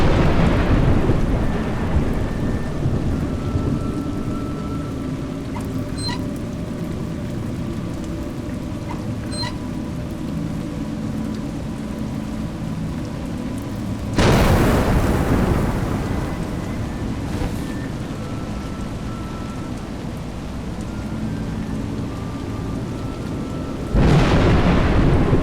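Steady rain falls throughout, with two loud rumbling thunderclaps breaking in partway through and again near the end.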